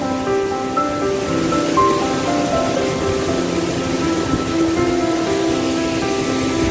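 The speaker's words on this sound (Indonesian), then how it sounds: "Nah, demikianlah portret air terjun Sarasah Kayu Jauh." Sarasah Kayu Jao waterfall with clear water pouring down, a steady close rush of falling water with no gaps, overlaid by faint tonal hums.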